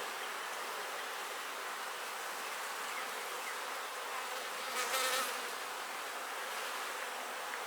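Honey bees buzz in an opened hive colony, a dense, steady hum of many insects close by with one louder pass near the middle, no voices.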